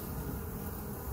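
Honey bees buzz at their hive in a dense, steady, close hum that holds without a break for about a second.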